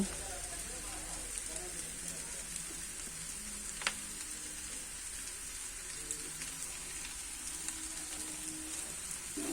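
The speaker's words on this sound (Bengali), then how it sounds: "ডিমের সঙ্গে আলুটা ভালোভাবে মিশিয়ে নিব আর 5 মিনিটের মতো ভেজে নিব" Fish roe and potatoes frying in a pan give a steady, moderate sizzle across the whole stretch, with one brief sharp tick partway through and no talking.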